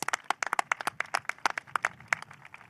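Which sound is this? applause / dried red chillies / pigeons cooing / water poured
applause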